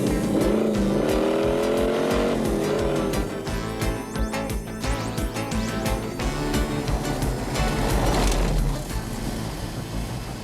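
A cartoon car speeding at maximum speed, engine droning and rising over a music score, with tire squeal and a roaring surge near the end.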